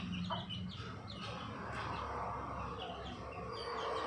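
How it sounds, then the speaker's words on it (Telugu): Steady close clucking from a mother hen in a backyard, a continuous low murmuring cluck with occasional higher calls, loud and unbroken with no talk. "మా కోడి తల్లి బయటికి వెళ్ళింది,"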